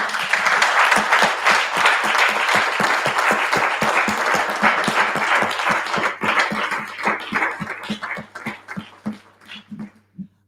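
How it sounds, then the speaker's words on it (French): A seated audience gives Laurent a round of applause, dense clapping at first that gradually thins into scattered individual claps before dying away. "Moi, j'aimerais bien qu'on applaudisse Laurent."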